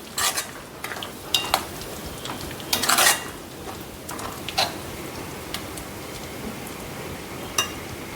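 Coriander being mixed into a finished onion curry in a pan, with sharp clinks and scrapes of a spoon against metal coming in scattered bursts over a faint sizzle, close by.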